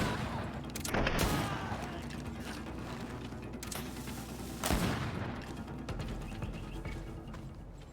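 Gunfire from a firearm in the video game GreedFall, two loud sharp blasts about three and a half seconds apart over a steady mechanical rumble, with faint clicking between shots.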